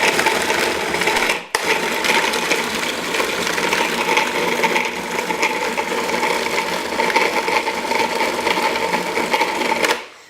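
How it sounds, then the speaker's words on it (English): Pitted ultra-moist dates churn into a paste in a food processor, a steady loud motor whir with grinding texture running almost unbroken, one brief stop early on. "I'm going to go ahead and just put them in the food processor until they form a paste"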